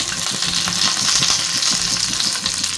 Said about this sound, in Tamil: கடுகு பொரியுதுங்க.